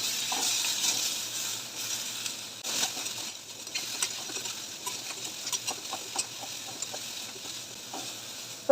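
Onion, tomato and two dried red chillies sauté in a pan, a soft, fairly quiet sizzle broken by light scraping and tapping from a stirring spoon.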